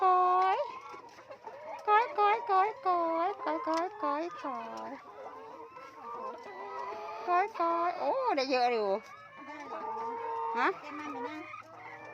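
Farm chickens cluck and call loudly and close by in quick irregular bursts, with someone talking intermittently near a feeding trough made from pipe.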